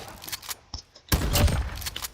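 Gamepass weapon gunfire in Roblox: a couple of sharp shots early on, a short lull, then a dense, loud burst of rapid firing that fills the rest of the moment.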